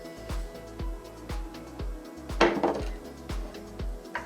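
A utensil mixes flour, sugar, rolled oats and baking powder in a bowl for oatmeal cookies, giving a steady run of close, evenly spaced knocks and clinks against the bowl, roughly two per second, with no talking.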